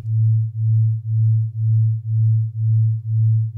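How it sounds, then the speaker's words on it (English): Two sine waves played together produce a steady low tone that throbs evenly, swelling and fading about twice per second in a smooth, regular pulse with no other sounds. "when we play them together, we get to hear the beating effect"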